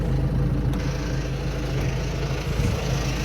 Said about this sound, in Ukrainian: Мотор мурвиче, робить тихо, робить е, в такт, робить чисто.